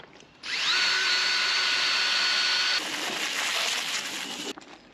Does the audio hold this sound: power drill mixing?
yes